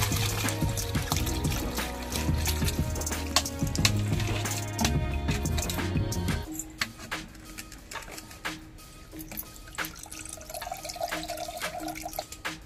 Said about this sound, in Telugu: 200 లీటర్స్ అయితే వాటర్ ని యాడ్ చేస్తున్నాను